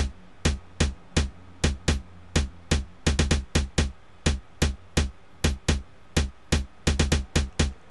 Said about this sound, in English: the main key thing about the beat is the snares